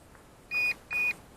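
A timer for an RC plane flight gives two short, clear electronic beeps about half a second apart, loud and close against a quiet background.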